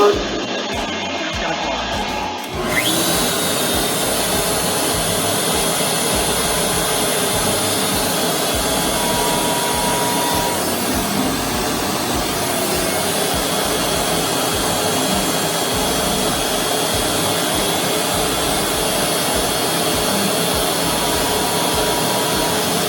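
An Inventables X-Carve CNC spindle spins up after a brief quiet start, then holds a loud, steady high-pitched whine like a vacuum motor for the rest of the time.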